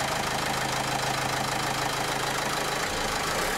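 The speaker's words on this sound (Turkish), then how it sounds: "Evet arkadaşlar, aracımız çalıştı." A car engine, cold after the battery was recharged at home, runs at a steady idle with a continuous low rumble and slight knock, close and fairly loud throughout, with no talking.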